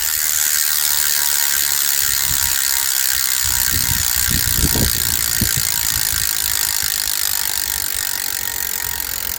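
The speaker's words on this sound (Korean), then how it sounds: "자, 라쳇 소리 한번 들어보실게요." Fast, continuous clicking of a freewheeling Zipp 404 rear bicycle hub ratchet, steady and close under a broad hiss, with a few louder knocks midway.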